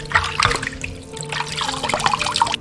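Cold tap water splashes and trickles over blanched soup ingredients such as ginger slices and scallion pieces being rinsed in a kitchen, with irregular close splashing and light clattering throughout.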